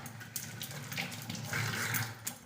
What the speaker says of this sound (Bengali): আমি পাতাগুলোকে একটা একটা করে সব ধুয়ে নিলাম